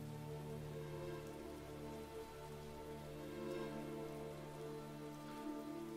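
Steady rain patters softly on a surface as quiet, continuous ambience with no voices, an even wash of drops throughout.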